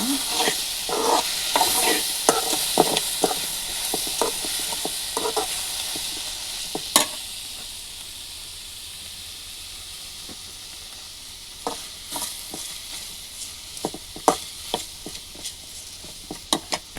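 Okra sizzles steadily in a hot pan while a spatula scrapes and clacks through it in bursts, busy stirring at first, then a quieter stretch of plain frying before more scattered sharp scrapes.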